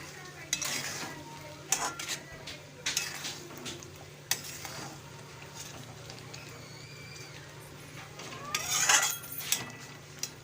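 A spatula stirs and sautés liver coated in masala in a sizzling pan, with irregular scrapes and metallic clinks over a soft, steady fry. A voice is faintly present.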